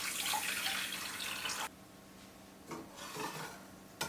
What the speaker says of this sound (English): I'm just gonna add my water on top.